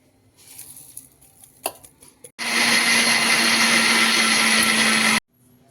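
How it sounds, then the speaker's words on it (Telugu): After quiet rustling and a click, a mixer grinder roars into a loud, steady whirring grind of dry spices for about three seconds, then abruptly stops. "ఇవంతా ఫస్ట్ డ్రైగానే మిక్సీ వేసేసుకున్నాం"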